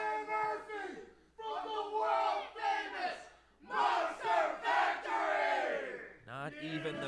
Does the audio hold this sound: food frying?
no